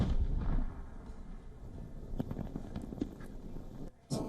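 Low rumbling blasts and booms roll in the distance in wartime Donbass, with a sharper crack near the end over a noisy outdoor background.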